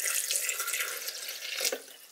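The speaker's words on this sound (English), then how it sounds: "And then we just put some water." Water pouring into a blender jar for a protein shake with peanut butter and blueberries, a steady running splash that carries on throughout and swells briefly near the end.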